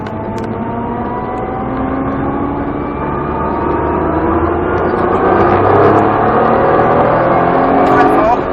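A race car on the Croix-en-Ternois circuit, its engine loud and close as it pulls hard under acceleration with revs climbing steadily, someone talking over it throughout.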